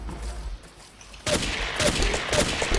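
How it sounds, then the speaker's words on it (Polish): Gunfire erupts partway through after a quiet start: a dense fusillade of overlapping shots and rapid bursts from players battling in the video game Ace of Spades, loud and sustained to the end. "Strzelają w nas z mostu"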